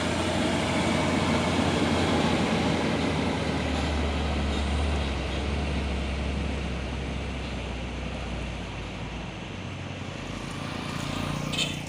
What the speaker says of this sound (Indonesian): Dan ini truk Puso 6x2 220 PS turbo intercooler